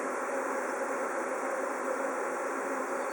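A honeybee swarm buzzes continuously as it is caught into a hive, with a large cluster still hanging on a tree nearby. The dense, steady drone stays even and close throughout, with no voices over it.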